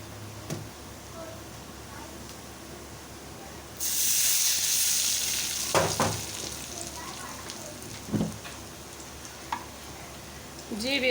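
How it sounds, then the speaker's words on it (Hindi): Cumin, a few black peppercorns and a clove drop into hot oil in a separate pan for a dal tadka, setting off a sudden sizzling hiss partway through that keeps going, with a few stirring clinks. "अब हम एक अलग पैन में ऑयल गरम करेंगे। उसमें हम थोड़ा सा ज़ीरा, 2-4 काली मिर्च, 1 लौंग ऐड करेंगे।"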